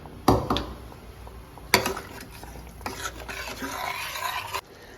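Water bubbling at a steady boil in a pot nearby while making rasam, with a couple of sharp metallic clanks near the start.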